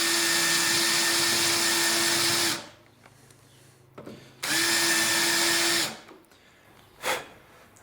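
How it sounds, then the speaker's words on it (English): A power drill countersinks screws into splashback panels by a freestanding oven: two loud sustained whirring bursts of about two and a half and one and a half seconds, separated by a short quiet gap, with a brief faint blip near the end. "I'm just countersinking the screws"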